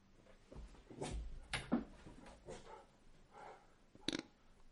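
A pet dog whimpers and yips indoors during a podcast recording, giving several short, close, fairly soft whines and small barks with pauses between them.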